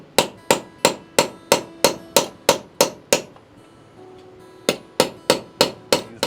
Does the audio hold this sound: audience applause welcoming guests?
no